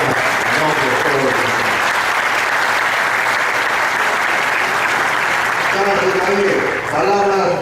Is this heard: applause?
yes